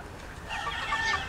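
A broodcock rooster among crowded hens makes soft clucking calls, close by, over a low ambient rumble with no talking.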